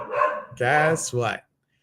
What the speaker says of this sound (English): I don't know why they're barking.